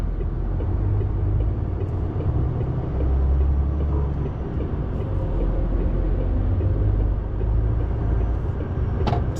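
Road traffic on a diverted motorway junction toward Milton Keynes, a steady low rumble of cars and engines with vehicles rolling past nearby and swells as they pass, no talking.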